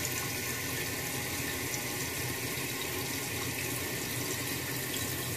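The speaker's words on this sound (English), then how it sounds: "So I'm going to let it fill all the way up, but right now, if I go to flush it again, it's going to flush." Water rushes steadily into a toilet tank as it refills after a flush, a constant close hiss and gurgle with no breaks and no voices.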